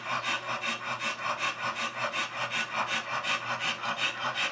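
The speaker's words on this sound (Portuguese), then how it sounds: "meu cachorro tá aqui respirando forte" A dog pants heavily in a hot room, a fast steady rhythm of rasping breaths repeating about four times a second, close and continuous with no talking.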